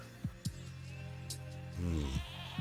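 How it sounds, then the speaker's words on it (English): A screaming goat in Minecraft lets out several short, sharp bleats spaced across the moment, with one longer wavering cry near the end, faint and alone with no talk. "Didn't I have one screaming goat over at my base somewhere?"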